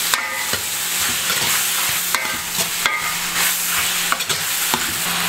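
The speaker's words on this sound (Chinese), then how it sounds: "把料头炒香，放盐、花椒粉、八角粉，炒香" Aromatics stir-fried with salt, Sichuan pepper powder and star anise powder in a wok give a continuous loud sizzle, with periodic scraping strokes of the spatula throughout.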